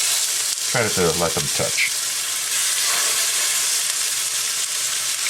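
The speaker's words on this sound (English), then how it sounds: "And simply place your burgers in the pan." Burgers sizzle loudly in a pan with a little olive oil, a steady broadband frying hiss running throughout with a brief spoken remark near the start.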